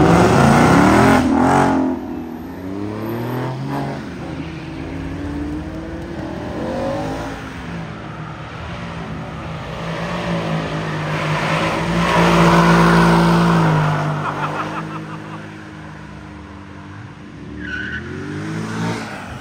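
Rally cars at a car display in Poland rev hard and accelerate, with rising and falling engine pitch and tire skids, loud and close, then fading as they pass.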